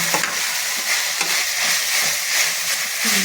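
Food frying in a pan, a loud, close, continuous sizzle with faint scraping of stirring running underneath.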